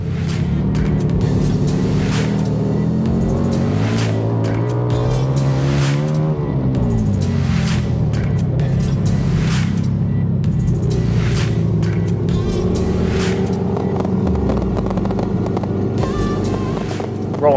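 A flat track racing motorcycle engine runs hard at Daytona, loud and continuous, with a rising and falling roar and repeated harsh revving bursts, close and steady with no talking.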